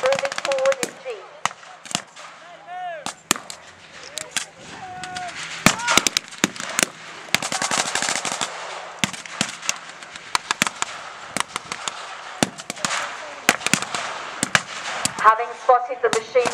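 Bursts of gunfire crackle at a World War II battle reenactment, with machine gun volleys and scattered shots from troops firing from a field tree line, dense and loud in stretches, with voices and whistling tones in between.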